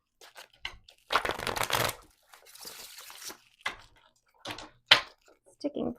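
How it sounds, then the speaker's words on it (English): A deck of tarot cards is shuffled in several bursts of riffling and rustling, close and fairly loud, separated by short pauses and scattered taps. "I need to shuffle one more time."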